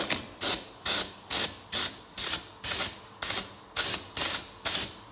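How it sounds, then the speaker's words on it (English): Short rhythmic bursts of hissing spray from an air gun applying paint to a ceramic toilet repair, about a dozen even pulses in quick succession, close and clear with no voices. "Now I'm using an air gun, which allows me to spray the area in a controlled manner."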